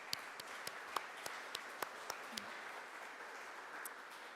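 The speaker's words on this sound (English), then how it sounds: "So just one more huge round of applause for Hibernia for leading the way on this." A faint, distant audience applauds at a high school tech immersion program funding announcement honoring the company Hibernia, a soft steady wash of clapping with a few sharper claps standing out near the start.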